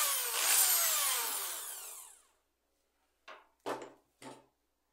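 A power drill bores holes into a plant pot, with a long rising whine for about two seconds, then a pause and three short, sharp drilling bursts close up.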